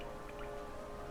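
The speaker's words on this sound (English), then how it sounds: "I so love the sound of the rain upon glass." Rain falling on glass in the game Hollow Knight, a soft, continuous patter with a faint steady ambient hum beneath.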